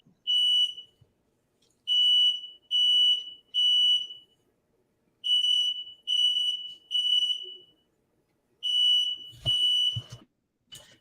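Home smoke alarm set off during cooking, shrill piercing beeps repeating in steady groups of three with brief pauses between sets, loud and close, followed by a couple of low thumps at the end.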